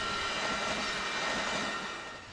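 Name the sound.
Amtrak Coast Starlight train passing through Gilroy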